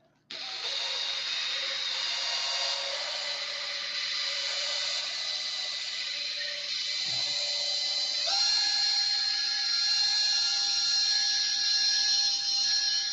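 A power sander works steadily across a surface coated with about ten clear top coats, a sustained high whine that holds a constant drone and shifts pitch once partway through, close and loud throughout, with no voices.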